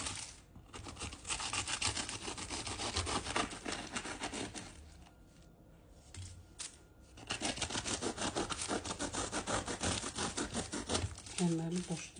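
A knife cuts through flaky Napoleon cake layers, making crisp crackling, crumbly rustles that run nearly throughout at close range with a brief lull in the middle, and a voice speaks softly near the end.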